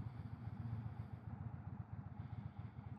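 An Indian Chieftain Dark Horse 116 motorcycle with a Thunderstroke engine braking on compression, a low, rapid, even rumble of engine pulses, fairly quiet and steady throughout.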